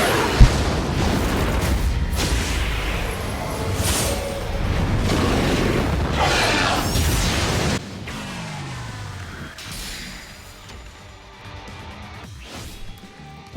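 A soul bomb attack animation plays in a Bleach mobile game, thick booming blasts and crashing impacts rumbling for several seconds before a quieter tail of swooshes and shimmering effects, with no speech.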